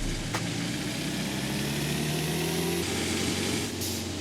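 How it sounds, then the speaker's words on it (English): Diesel lorry engine idling in the Forza Horizon 5 video game, a steady low rumble with a constant hum and a couple of brief hissing bursts, close and continuous. "it sounds exactly like a truck in real life"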